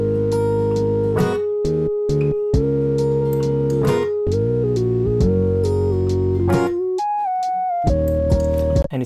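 A basic recorded track plays on a 1988 cassette tape recorder: electric and acoustic guitars, MIDI drums, a bass line and a synth solo, with steady loud chords and a melodic lead near the end.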